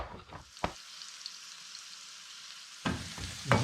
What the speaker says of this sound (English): So the onion's cooking away nicely.